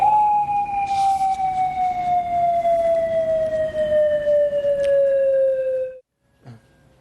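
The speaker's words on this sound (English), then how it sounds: "The sirens would wail from 400 different locations across the island chain for 60 seconds" A Hawaii attack warning siren wails as one sustained, loud, slowly falling tone for about six seconds, then cuts off abruptly, leaving near silence with a faint brief noise.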